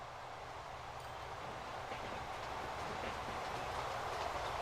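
A train passing in the Transport Fever video game: a steady, faint rolling rumble with a soft rhythmic clatter, gradually swelling slightly over several seconds, heard alone without talk.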